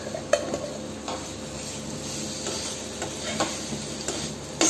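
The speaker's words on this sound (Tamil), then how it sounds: "ஒரு பெரட்டு பெரட்டிக்கோங்க" Boiled moong dal is stirred into sautéed Abutilon indicum (thuthi) greens in a pan, giving a close, continuous soft sizzle with a few sharp scrapes and clinks of the spoon.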